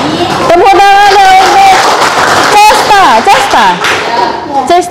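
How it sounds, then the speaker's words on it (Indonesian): Children in an Indonesian high school science class clap their hands together in a short burst, loud and close, mixed with excited chatter and voices talking over the clapping. "Tepuk tangan"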